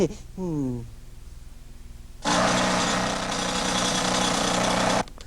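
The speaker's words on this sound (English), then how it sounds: "does it sound like a street being torn up?" A jackhammer tears up a street as a roadwork sound effect, a loud sustained pounding roar of about three seconds that cuts off abruptly, preceded by a brief spoken voice.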